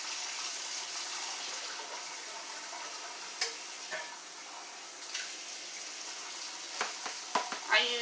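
Canned mixed vegetables (carrots, peas, corn, green beans) rinsed under a running kitchen tap: a steady, soft hiss of flowing water with a few light clatters and splashes near the end.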